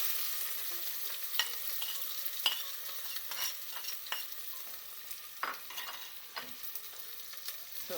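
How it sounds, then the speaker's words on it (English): Onions frying in a pan with jeera and garam masala, a soft steady sizzle broken by light scraping clicks from stirring, quiet and close with no voices. "now keep frying the onion till they get golden brown"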